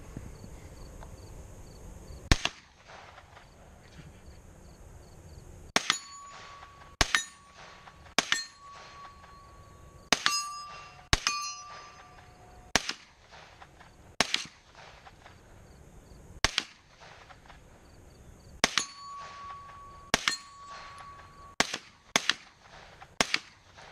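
A series of sharp gunshots from a small plinking gun, fired singly at irregular intervals and sometimes in quick pairs, with a metallic ring after some reports and a quiet background between shots.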